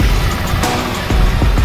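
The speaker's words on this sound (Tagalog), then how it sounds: "Marami ng mga sasakyan." Steady roar of passing vehicles on a busy highway, a dense low rumble of cars and engines with brief swells as vehicles go by close to a walker, heard alone without talk.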